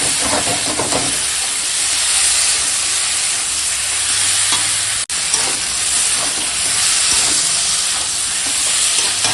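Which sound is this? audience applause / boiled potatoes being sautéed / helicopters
boiled potatoes being sautéed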